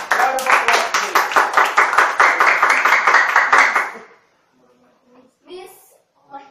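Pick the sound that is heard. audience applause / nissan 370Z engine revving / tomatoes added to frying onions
audience applause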